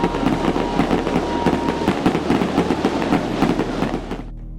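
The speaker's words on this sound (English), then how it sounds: "Jason, launch the fireworks" Fireworks going off after a concert, a dense run of rapid crackling bursts and booms that keeps up for several seconds before it cuts off abruptly, loud and close.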